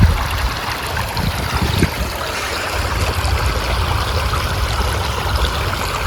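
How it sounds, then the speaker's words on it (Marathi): Water runs steadily along an irrigation channel outdoors, probably feeding a field being filled, a continuous close rushing and trickling flow with no pauses. "मस्त पाटापाटाने पाणी चालू आहे."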